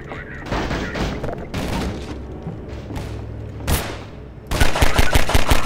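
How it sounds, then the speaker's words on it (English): Gunfire in the game Half-Life 2 shoots at the player: loud, repeated bursts and thumps throughout, with an intense rapid volley at the end, mixed with game sounds and a voice. "Wait, where am I getting shot from?"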